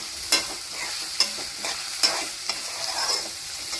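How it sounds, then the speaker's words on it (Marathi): Chopped onion sautés with salt in a pan, a soft sizzle broken by several spoon stirs and scrapes, close and quiet with no voices. "कांदा टाकला की कांद्यावर थोडंसं मीठ टाकायचं, कारण तो कांदा लगेच शिजतो"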